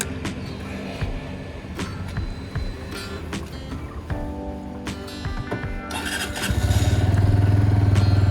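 Mechanical clicks and rustling give way to a brand-new Buccaneer 125 motorcycle engine catching on its first start and settling into a steady, low idle rumble close by in an indoor parking garage.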